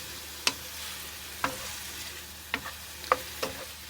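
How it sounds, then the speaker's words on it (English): Food sautéing in a pan sizzles softly and steadily, broken by four or five sharp clinks and scrapes from a stirring utensil against the pan. "We're just going to saute this for just a few minutes."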